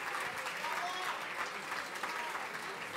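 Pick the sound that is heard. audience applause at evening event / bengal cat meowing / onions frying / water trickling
audience applause at evening event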